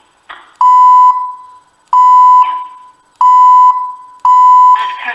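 Repeated electronic phone tones sound in four evenly spaced bursts, each a loud steady beep with a brief buzzy edge, clear and alone with no talking.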